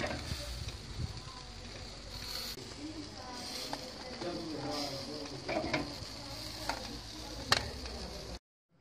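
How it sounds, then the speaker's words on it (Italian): Sausages and onion grilling over embers at an outdoor May Day barbecue crackle and sizzle steadily, with occasional sharp pops and clicks amid faint background activity before cutting off abruptly. "Salsiccia alla brace e cipolla."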